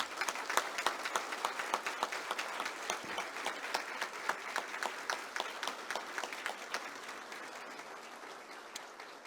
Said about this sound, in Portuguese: Agora sim, a nossa homenagem em aplausos.